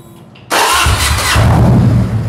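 Harley-Davidson motorcycle fitted with an aftermarket Kerker exhaust cranks and fires up, the engine catching with a loud, deep rumble that settles into a throaty idle right after a brief starter whir.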